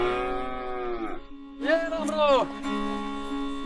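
An old, weak cow moos twice, long drawn-out lowing calls with a harmonic, nasal tone, close by, with a droning background between the calls.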